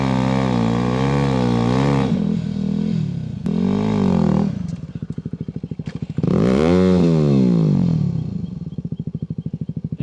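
Dirt bike engine revving hard and bogging as it strains up a hill, loud and close, with repeated surges of throttle, drops to a putter and renewed high revs.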